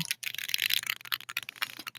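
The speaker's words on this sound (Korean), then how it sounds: "이번엔 제가 좀 과하게 코앞에서 키보드를 쳐볼게요." A computer keyboard typed on right in front of the microphone gives close, crisp clacking keystrokes in rapid irregular bursts, fairly loud and with no voices.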